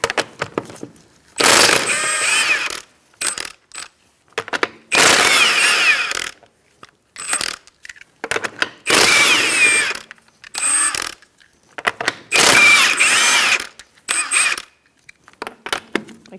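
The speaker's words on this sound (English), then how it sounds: "Using a 21mm socket, we're going to take off our lug nuts." A power tool with a 21mm socket spins lug nuts off the front wheel of a 2004-2009 Mazda 3 in five loud, close, whirring bursts of a second or two each, separated by short pauses.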